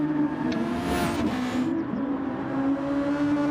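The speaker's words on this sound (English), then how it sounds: "Love the sound of those cars." Race cars roaring past at a track day, including a Ferrari, with sustained engine tones and a sweeping pass around the one-second mark, loud and close with no talk.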